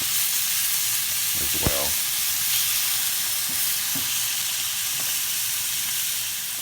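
Food that has just been flipped sizzles and fries steadily in a hot pan, a broad continuous hiss with a brief clatter partway through, and a voice briefly speaking over it.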